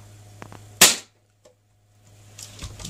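A single loud, sharp gunshot from a powered gun, close by, then near silence and a little faint background noise.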